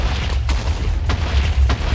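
Repeated TNT blocks detonating in Minecraft, fed by a lever-activated duplicator, give a continuous loud rumble of overlapping deep booms with several sharper blasts standing out, and no speech is heard.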